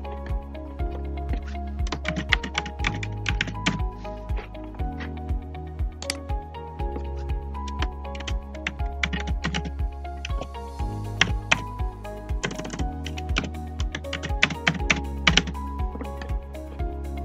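Someone types on a computer keyboard while entering text in BricsCAD 2D drafting software, producing quick, uneven, close key clicks in irregular bursts over a steady low hum, with no voices.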